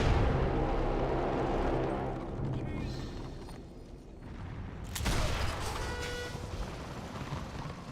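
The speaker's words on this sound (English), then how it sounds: "this thing is going to explode now" Battle noise in the Warhammer Online video game: dense, loud rumbling blasts and crackling fire that dip briefly, then a sharp burst of a fresh explosion near the middle with ringing effects trailing after.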